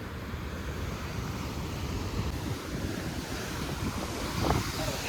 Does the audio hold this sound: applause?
no